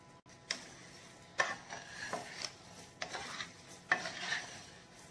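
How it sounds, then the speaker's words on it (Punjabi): Raw mango pieces are mixed with 350 grams of sugar for a sweet and spicy mango pickle, giving quiet, intermittent scraping and stirring strokes a second or so apart. "ਸ਼ੂਗਰ ਐਡ ਕਰਨ ਤੋਂ ਬਾਅਦ ਅਸੀਂ ਇਹਨੂੰ ਅੱਛੀ ਤਰ੍ਹਾਂ ਮਿਕਸ ਕਰਨਾ।"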